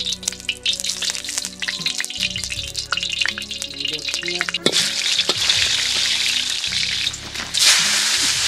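Pickled radish stir-fried in a wok with pickled chillies, a steady loud sizzle punctuated by scraping spatula strokes and clatters, the frying growing brighter toward the end.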